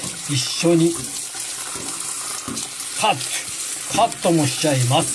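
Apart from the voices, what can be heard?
rinsing shirataki noodles under water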